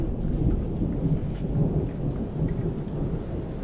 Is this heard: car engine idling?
no